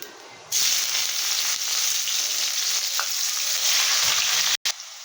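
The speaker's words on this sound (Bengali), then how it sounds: "দেখুন পেঁয়াজটাকে দিয়ে নিয়েছি। এটাকে 1 মিনিটের মতন ভেজে নিয়েছি।" Onion frying in a pan with cardamom, cinnamon and cumin, a steady close hiss that starts after a brief quieter moment and carries on without a break to the end, with a short cut near the close.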